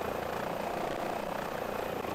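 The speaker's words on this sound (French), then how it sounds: "l'hélicoptère va partir" A helicopter hovers during a piloting lesson on hover basics, its rotor and engine producing a steady, even whir throughout with no talking.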